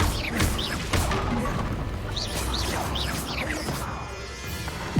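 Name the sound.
Bombarda explosion spell cast in video game Hogwarts Legacy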